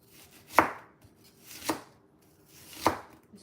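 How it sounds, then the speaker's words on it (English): Three sharp, evenly spaced knife chops on a cutting board while cutting seasoning vegetables such as tomato, pepper, okra and pumpkin for Jamaican roast fish, each a crisp isolated thunk with quiet gaps between. "So we're gonna go in and cut up the seasoning"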